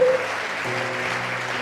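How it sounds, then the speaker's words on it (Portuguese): Evening church congregation clapping for the Lord, a brief steady burst of dense applause at moderate loudness, heard without talk. "Quem pode aplaudir o Senhor bem forte nessa noite?"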